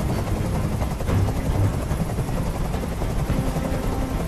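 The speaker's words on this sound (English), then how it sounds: "I can't stand that noise anymore. Tell that helicopter to get out of here." A helicopter hovering in the video game Detroit: Become Human, a loud continuous rotor thrum with rapid pulsing chop, holding steady and close throughout.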